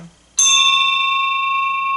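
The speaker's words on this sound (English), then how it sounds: "The hour bell sounded with a deep, dull, hollow, melancholy 1." A single deep hour bell strikes once after a brief quiet moment, its loud ringing tone holding steady and slowly decaying in a still room.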